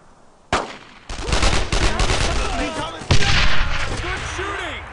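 Gunfire in the World War II shooter Brothers in Arms: Road to Hill 30, loud sharp bursts and rapid automatic fire crackling close by, with shouted voices over the battle.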